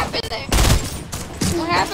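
Rapid bursts of video game gunfire, loud and close, with a player's excited voice over part of it.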